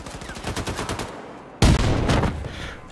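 Gunfire in the shooter Wolfenstein II: The New Colossus comes as a rapid run of repeated shots, then a sharper, louder burst of fire after a short pause.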